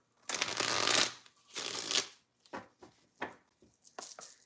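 Tarot cards are shuffled nearby in two long riffling bursts, followed by several shorter, quick shuffles and taps.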